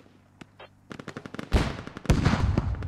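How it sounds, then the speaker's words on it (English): Gunfire in the military shooter Squad builds from scattered single shots into dense overlapping automatic bursts and heavy impacts, close and loud, with rapid crackling volleys filling the space. "And we have fire erupting from all flanks now"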